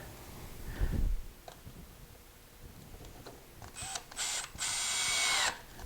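A power driver sets temporary screws into a wooden tapering jig block, short bursts of whirring that start and stop several times, the last run longest, in a quiet workshop.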